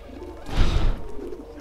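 Pigeons at a makeshift dovecote in Assassin's Creed II, a short flutter and burst of wings with a soft thump, close and brief over faint game background.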